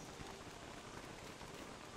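Steady rain falling at night, a dense continuous hiss of drops with no breaks, moderately faint and heard on its own without talk.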